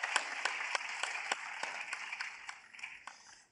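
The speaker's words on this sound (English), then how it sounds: "A round of applause, Mr. Yoka." Conference audience at an Afreximbank annual meeting applauds, a few distinct hand claps standing out over a steady wash of clapping that gradually fades.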